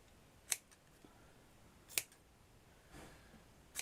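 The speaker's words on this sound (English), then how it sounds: "By cutting a V, you're making it look like there's more than one petal." Scissors snip through chiffon fabric while shaping rose petals, giving three or four sharp, separate clicks spaced about a second and a half apart in an otherwise quiet room.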